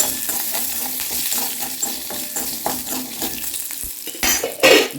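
Whole onions fry with urad dal in a pan, crackling and sizzling continuously with stirring scrapes and a couple of louder clatters near the end.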